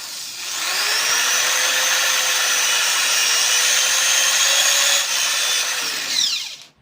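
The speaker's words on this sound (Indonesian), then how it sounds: "tinggal kalian lubangin pakai obeng tadi ya" A steady whirring power tool runs loud and continuous for several seconds, starting up and winding down at the end.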